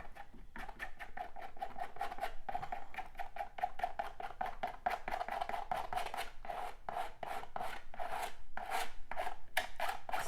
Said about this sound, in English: Softening that by patting it and scraping it